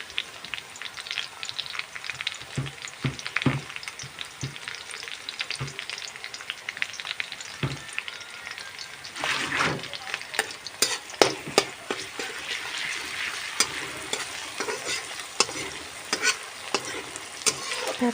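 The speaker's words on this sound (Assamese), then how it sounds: "এতিয়া ইয়াত দি দিম মই এয়া আদা নহৰুখিনি।" Ginger and garlic sizzle in oil in a pan for Assamese jatilao bakoli, with a steady frying crackle and repeated scraping strokes of stirring close by, no talk.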